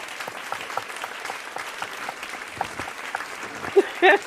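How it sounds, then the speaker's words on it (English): An audience claps steadily, a dense patter of applause that swells briefly near the end with a couple of louder bursts. "clap for yourself"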